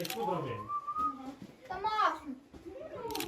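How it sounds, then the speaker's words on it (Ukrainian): A child whistles a few wavering, breathy notes close by, with brief pauses between phrases. "Та не свисти"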